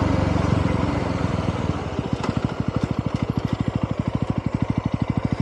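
A Yezdi Roadster 2025 motorcycle engine steadies from a riding drone into a slow, evenly pulsing thump as the bike pulls over and idles close by.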